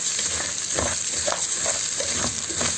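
Rice frying in hot oil with a loud, steady sizzle, broken by soft scraping strokes as it is stirred, heard up close.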